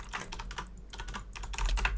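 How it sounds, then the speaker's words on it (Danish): Rapid clattering of computer keyboard keys, uneven bursts of typing close by with short pauses, over a low steady hum. "Jeg kunne høre det på tastaturet, du begyndte at skrive lidt for hurtigt."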